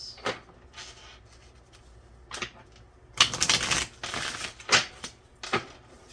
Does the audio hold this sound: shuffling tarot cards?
yes